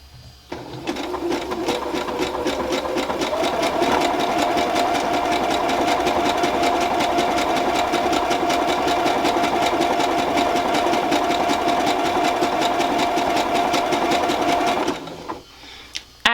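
A sewing machine stitches pink lace onto pink fabric with a fast, even mechanical whir and rapid clatter, running steadily for about fourteen seconds before stopping, loud and close with no talking.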